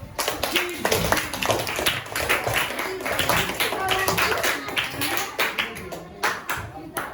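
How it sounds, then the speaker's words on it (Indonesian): A classroom of pupils claps their hands together in a steady, dense patter lasting several seconds, with voices mixed in underneath. "Pakai tepuk tangan dulu semuanya"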